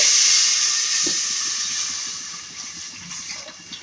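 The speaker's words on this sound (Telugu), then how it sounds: "ఇదే గిన్నెలో నేను పాలు వేసుకుంటున్నానండి" Raw milk poured into a hot cooking pot that has just been used for roasting: a loud, bright hissing rush that sizzles at first, then gradually fades and thins over four seconds with faint clinks near the end.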